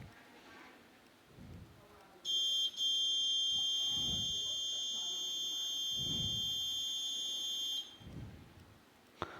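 A mosque prayer-time clock sounds its alarm, a loud, steady high-pitched electronic buzzing tone that runs for about six seconds, while someone talks quietly underneath.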